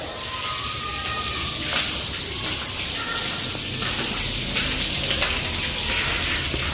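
Water sprayed across newly laid floor tiles in a house under construction, a continuous hissing, splashing wash that holds steady and fairly loud throughout, with no clear talking.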